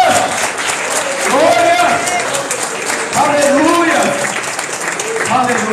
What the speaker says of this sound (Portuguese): Aplauda bem forte aqui.